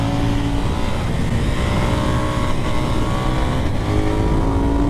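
A 2024 KTM 990 Duke motorcycle engine accelerates hard and shifts up on twisty tarmac, a loud, dense continuous roar with wind rush and slight pitch dips at the gear changes.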